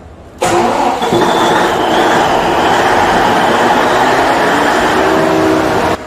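A generator set switched from auto to manual starts up with an abrupt loud crank and catch, then runs at a steady, close, heavy engine roar before cutting off near the end.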